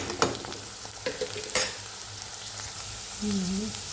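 Onions sauté in a pan for tamarind rice, a soft steady sizzle broken by a few sharp clacks of a spoon against the pan, with a brief murmured voice near the end.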